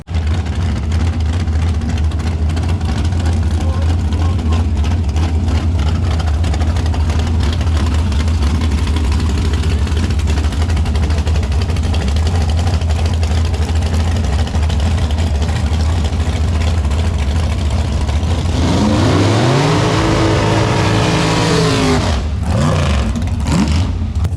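Dragster race cars at a night drag racing points race hold a loud, continuous engine rumble at the track, then a sharp rising-and-falling rev sweeps through near the end.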